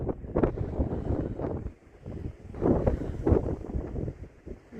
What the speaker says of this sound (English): you get up here and that wind is cold